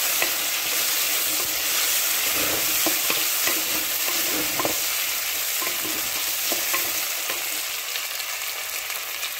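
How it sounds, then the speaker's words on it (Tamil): Onion and tomato sauté in a pan for an okra and egg curry, giving a steady bright sizzle with repeated scraping and stirring strokes, close and continuous with no talking. "இதையும் சேர்த்து நல்லா வதக்கிக்கிங்க."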